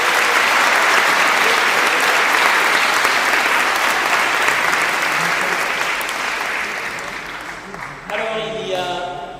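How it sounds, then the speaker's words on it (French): A congregation at a Christmas Eve mass gives sustained loud applause in a church that fades slightly toward the end, where a voice begins speaking over the dying clapping. "On peut vous applaudir très fort."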